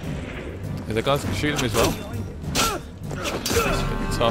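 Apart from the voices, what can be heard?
gunfire in the video game Assassin's Creed Unity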